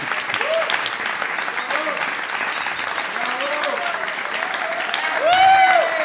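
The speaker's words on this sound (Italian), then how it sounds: "quindi se volete fare un applauso" A stand-up comedy audience applauds in a dense, steady wave of clapping while a voice talks over it, the clapping swelling slightly louder near the end.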